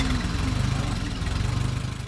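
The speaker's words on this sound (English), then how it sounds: "This tractor right here belongs to my son-in-law, Chad Myers." A Model 450 four-wheel-drive tractor idles nearby with a steady, loud low rumble and slight rhythmic pulsing, fading a little toward the end.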